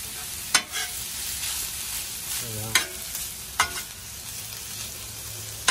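Cheesesteak meat sizzles and fries on a Blackstone griddle, a soft continuous crackle broken by a few sharp scrapes of a spatula stirring and turning the food.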